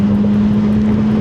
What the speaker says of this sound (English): I'm gonna just downshift a little bit. I went into second and just kind of like ease off the clutch